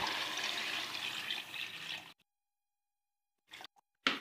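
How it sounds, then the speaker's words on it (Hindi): Water pours steadily into a pot of cooking masala for about two seconds, a loud, rushing broadband stream that cuts off abruptly, followed by silence and a few short splashes or clatters near the end. "अब हम इसमें तकरीबन 2 लीटर पानी शामिल कर देंगे"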